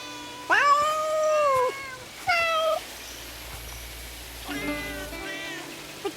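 Cats in Where Winds Meet, a PS5 game, meow: two loud drawn-out meows close together, a pause, then a softer, longer meow over a faint low background hum, with no talk.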